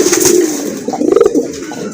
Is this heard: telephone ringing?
no